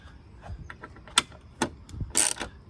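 A ratchet snugs up 5mm bolts on a 2021 Jeep Wrangler Sky One-Touch power top, giving a few close, quiet clicks and sharper ticks spaced irregularly over a couple of seconds.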